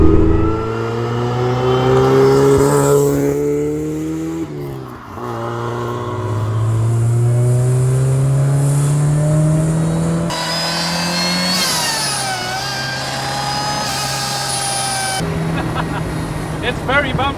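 A supercharged Mazda MX-5 Miata pulls hard along a British B road, engine note rising through gears with shifts at intervals, steady and close from inside the cabin, with occupants talking over it.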